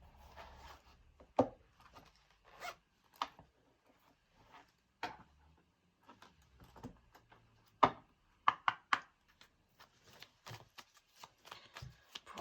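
Small Lenormand oracle cards are drawn and handled from a deck, producing scattered soft flicks, taps and shuffling snaps over a dozen seconds, quiet and close with gaps between.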